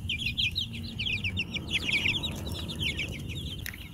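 Several pastured chickens cluck and chirp softly in a steady, busy chorus, close by, with a low rumbling background throughout.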